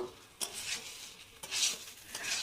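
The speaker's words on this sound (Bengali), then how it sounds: "দিয়ে নাড়তে থাকবো গ্যাসটা একটু মাঝারি সাইজে বাড়িয়ে দিলাম" A spatula stirs jackfruit and shrimp curry in a pan over a medium gas flame, giving a few distinct scraping strokes over a faint, close sizzle.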